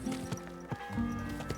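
A horse walks with clip-clopping hooves in Kingdom Come Deliverance 2: a few regular, close hoofbeats set against a soft ambient game backdrop.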